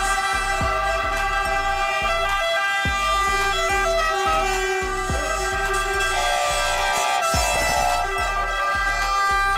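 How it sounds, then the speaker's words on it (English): An ambulance car siren wails in a steady repeating pattern over a pulsing rhythmic backing, loud and continuous with no voices. "This is ambulance car."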